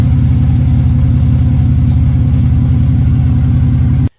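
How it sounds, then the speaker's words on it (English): Van engine running with a blown-out muffler, a loud, close, rough low rumble with steady rapid pulsing throughout, cutting off abruptly at the end. "That reality being my muffler looks and sounds like this."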